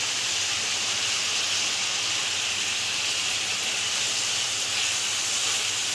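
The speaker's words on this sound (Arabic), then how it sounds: "نقلب بقى كله مع بعض كده ونخليه ياخد تشويحه" Pasta with sausage being stirred and sautéed in a pan, giving a continuous loud hiss of steam and sizzling with no pauses.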